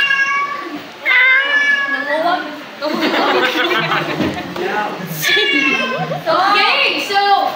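A cat meows repeatedly in short rising and falling cries amid lively children's voices and chatter, with the meows standing out clearly over the noisy room.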